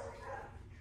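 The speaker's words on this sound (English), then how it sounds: "Now the dogs are barking." Dogs bark inside a house, a short burst of yips and barks at moderate distance with a steady room hum beneath.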